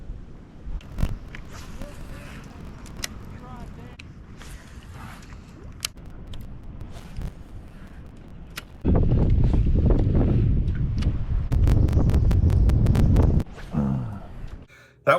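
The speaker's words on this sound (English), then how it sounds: "The freaking wind out here. It's absolute insanity." Strong wind buffets a microphone outdoors on a fishing boat. Gusty rumbling and rustling run throughout, surging into a loud, sustained roar for several seconds before easing back.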